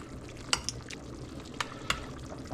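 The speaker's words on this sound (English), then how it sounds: "Go ahead and mix that all up." Whole milk ricotta is stirred with black pepper, salt and parsley in a bowl, making soft, quiet wet mixing sounds with a few sharp clinks of a utensil against the bowl.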